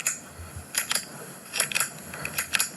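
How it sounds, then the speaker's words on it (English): A pen clicks close by in a few quick pairs of sharp, crisp snaps separated by short pauses, with a soft hiss of room noise between them. "It's a pen clicking."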